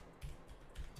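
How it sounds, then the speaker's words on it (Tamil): Computer keyboard typing, with a few soft clustered key clicks and thumps in quick irregular bursts, fairly faint and close, with no voices. "கொட்டை பெரிய வார்த்தையை டைப் பண்றீங்களே."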